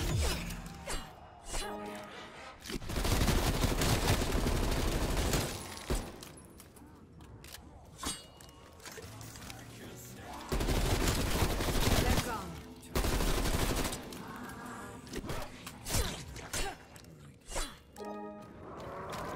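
MP5 submachine gun fire in a video game, with loud rapid bursts of automatic shots recurring across the stretch, separated by quieter gaps.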